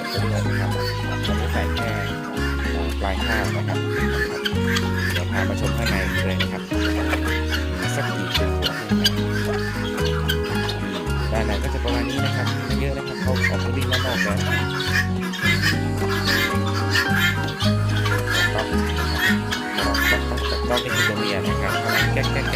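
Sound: chickens clucking on a farm in the morning after rain

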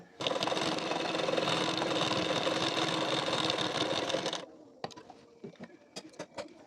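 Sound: sewing machine stitching blouse collar strip

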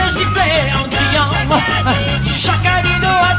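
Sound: audience whistling and shouting

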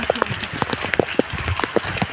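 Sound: rain

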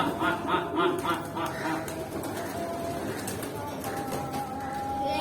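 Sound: pigeons cooing as they come for food

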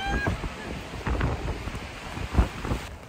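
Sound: strong wind gusts during storm at campsite

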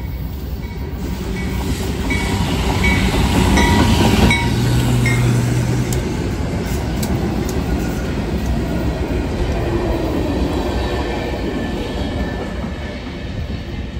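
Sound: train passing by

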